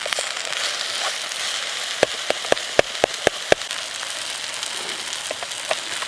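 Onions and apple sauteing in ghee at a wild campsite, giving a soft steady sizzle with a run of sharper crackling pops in the middle, close and alone.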